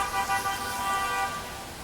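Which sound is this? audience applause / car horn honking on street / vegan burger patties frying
car horn honking on street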